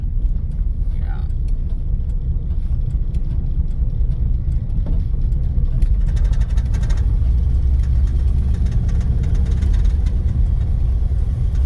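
A 1964 Dodge sedan runs down a road on its first drive in over fifteen years, its steady engine rumble and road noise loud and continuous throughout from inside the car, while people talk over it.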